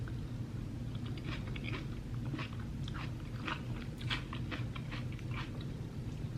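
Crisp chewing and biting sounds come close to the mic as someone eats tteokbokki, irregular bites over a constant low background hum, with no talking.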